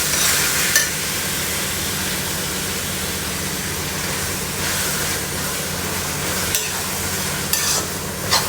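Tomato puree stirs into a home-cooked spaghetti sauce, a steady hiss and sizzle in the pan broken by a few sharp scrapes and clinks from the spoon.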